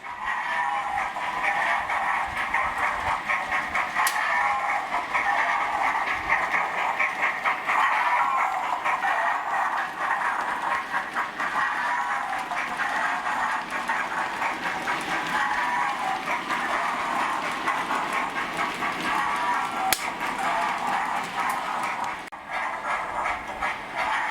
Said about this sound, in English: You're going to see this locomotive emerge from the station fiddle yard.